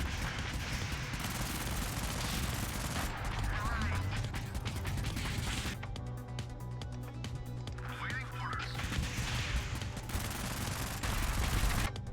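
Vehicle-mounted guns in the video game Convoy fire in rapid bursts over a dense game soundtrack and engine rumble, mostly continuous with a brief lull in the middle; someone talks over it at times.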